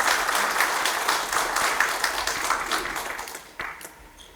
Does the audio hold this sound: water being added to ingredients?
no